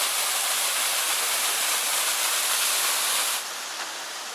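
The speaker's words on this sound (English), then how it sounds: "First waterfall." A waterfall on Tasmania's Overland Track pours as a loud, dense, continuous roar, dropping slightly in level near the end, with no voices.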